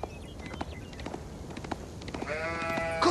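A sheep bleats in the Age of Empires 4 strategy game: a wavering, nasal bleat near the end follows soft, scattered clicks and taps, all fairly close and clear.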